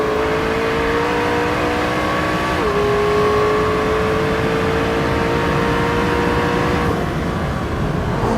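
A McLaren 650S Spider's 3.8-liter twin-turbo V8 revs loudly and continuously, its pitch climbing, then dipping briefly as if shifting, before holding a strong high whine.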